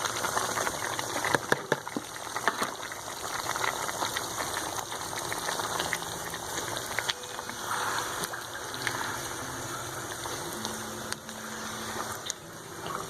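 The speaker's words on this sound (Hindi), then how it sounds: "अब हम इसको इसमें शामिल करेंगे और अच्छे से फ्राई करेंगे यहाँ तक कि प्याज का पानी अच्छे से खुश्क हो जाए" Chopped onions fry in a pan for white chicken karahi, giving a continuous dense sizzle and crackle with occasional sharper pops, loud and close.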